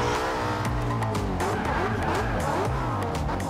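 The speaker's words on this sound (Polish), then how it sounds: "Jak słyszę tylko pisk opon, wtedy leciutko puszczam hamulec" Tires squeal continuously over a droning racing engine in a racing video game, the pitch wavering as the car brakes and slides through a corner.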